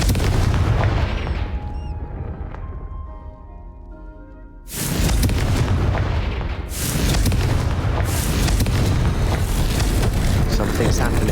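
Confringo spell explosions in Hogwarts Legacy, heavy booming blasts that hit loud and close, one near the start and a second, sharper burst about halfway that rolls on with rumbling debris, with voices over the top.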